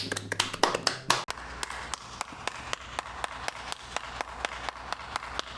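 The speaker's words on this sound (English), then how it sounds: "Round of applause for him." Audience applause, a loud burst of clapping at first that thins into sparse, evenly spaced claps over a steady background hum.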